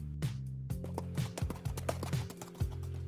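Icelandic horse hooves clip-clop in a steady, fairly quick rhythm, the beats crisp and close over a low background hum, with no talk.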